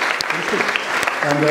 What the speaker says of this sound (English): Big round of applause to KPMG.